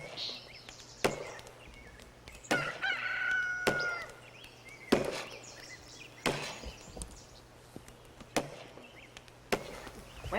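Roosters on a homestead in Manitoba crow in the background, a few drawn-out calls mixed with clucking, while loud sharp chopping strikes of wood land at intervals and people talk briefly.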